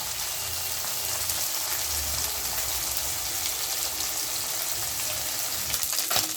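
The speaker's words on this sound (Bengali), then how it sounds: "মাছগুলো এইভাবে নেড়ে ভেজে নিতে হবে" Morola fish frying crisp in a pan of oil, a steady dense sizzle and crackle running throughout at close range, with no voices.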